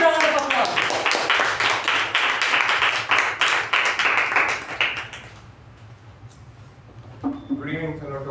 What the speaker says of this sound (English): Please welcome Toastmaster Madhusudhan with a huge round of applause.